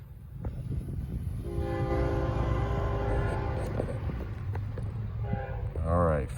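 A Norfolk Southern freight train rumbles as it rolls out, its horn sounding a long, steady blast over the heavy low drone of the engine and cars, followed by a short horn note at the end.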